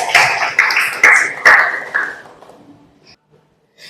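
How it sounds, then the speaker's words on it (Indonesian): Classroom of junior high students clapping together for a classmate, a burst of dense, close applause that trails off and fades to near silence. "Beri tepuk tangan untuk Arum."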